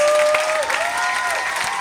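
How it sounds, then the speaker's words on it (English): Theater audience applauds steadily throughout, a dense, loud wash of clapping with a faint tonal whistle-like line running beneath it. "give a huge round of applause for the best stage manager in the business"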